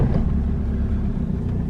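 A BMW engine runs at a steady, low rumbling idle close by, right after starting on a newly installed battery, with no voices.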